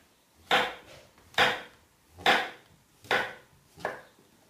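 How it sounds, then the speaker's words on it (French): A knife chops mushrooms on a board in five evenly spaced, crisp, close strokes, each a sharp thud that fades quickly before the next. "Coupez finement les champignons."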